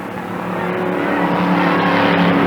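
Thunder cars race down the front stretch out of turn 4 at Tri City Raceway, a dense continuous engine roar that swells steadily louder as the pack approaches.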